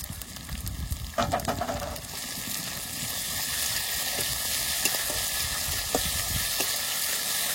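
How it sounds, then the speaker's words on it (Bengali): Ginger, garlic and onion paste fries with cumin-coriander spice paste in a pan, a continuous close sizzle broken by clattering spatula strokes and scrapes, with no one talking. "আদা রসুন পেঁয়াজ একটু কষিয়ে নিয়েছি, এবার জিরে ধনে বাটাটা দিয়ে দেবো"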